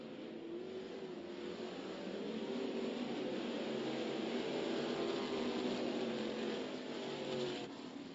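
Sprint cars race on a dirt speedway at Adams County, Illinois, engines droning and revving steadily at a distance as the pack passes, swelling slightly midway with no talk over it.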